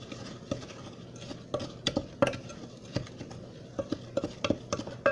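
A wooden spoon stirs a graham cracker mix, giving close, irregular taps and scrapes against the bowl with soft crumbly rustling between the knocks.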